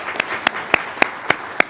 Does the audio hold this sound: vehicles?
no